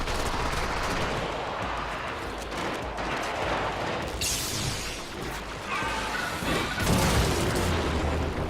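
Gunfire in the shooter video game Warframe rattles on continuously, dense rapid shots and booming impacts layered over one another at steady loudness.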